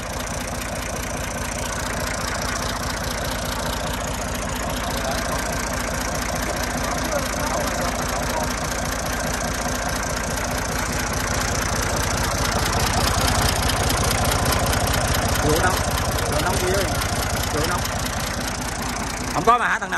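A quietly idling engine on a machine just handed over to a new owner, with a steady low mechanical hum and faint knocking running throughout, with voices talking over it.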